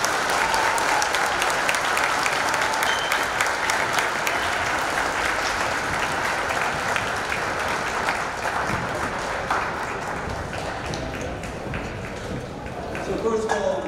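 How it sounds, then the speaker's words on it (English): An audience at a military inspection ceremony applauds the choir, a dense sustained wash of clapping lasting over ten seconds, gradually thinning toward the end, with faint voices mixed in. "A round of applause for the choir"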